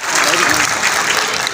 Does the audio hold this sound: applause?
yes